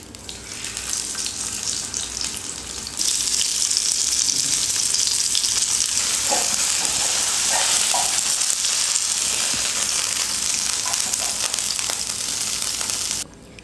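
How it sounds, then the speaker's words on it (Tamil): Sankara fish frying in hot oil gives a steady, loud broadband sizzle that carries through nearly the whole stretch, swelling stronger after the first few seconds, with a few faint clinks over the hiss and no talking. "இப்போ இது கூடவே இன்னும் கொஞ்சம் எண்ணெய் சேர்த்து இன்னொரு மீனையும் நான் ஃப்ரை பண்ணி எடுத்துக்கிறேன்."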